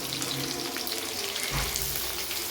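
Cashews fry in a pan until reddish, giving a steady, close, even hiss of bubbling oil throughout the short stretch, with no talking.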